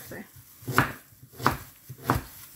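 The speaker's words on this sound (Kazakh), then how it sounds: "Baklajanымызды турап қойдық." Eggplant is chopped with a knife in three evenly spaced, crisp, close thuds against a board, in a quiet kitchen.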